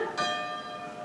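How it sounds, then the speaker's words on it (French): A single church bell strikes once and its ringing tone lingers and slowly fades, heard alone without voices. "Les cloches."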